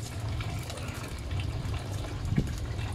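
Water is poured steadily over a dog with mange during a bath, making a continuous close gushing and splashing sound.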